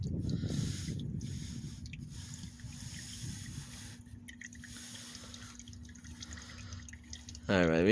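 Oil drips and trickles from the drain plug of a 2007 Mazda CX-9 during an oil change, a soft wet patter that continues under faint background noise, with a brief louder sound at the end.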